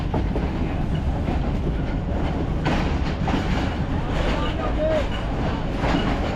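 Train pulling in at platform 4 of Rawalpindi railway station, heard as a steady, loud rumble of rail cars with faint wheel clatter and a brief squeal, over busy platform noise and some talk.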